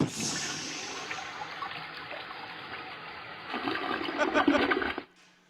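A toilet flushes up close, starting with a loud rushing gush of water and then settling into a steady swirling drain, with the noise swelling again before it cuts off abruptly near the end.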